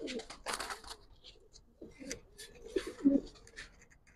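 Giribaz flying pigeons cooing up close in short throaty bursts, interrupted by rustling and handling noises, with some quiet talk mixed in.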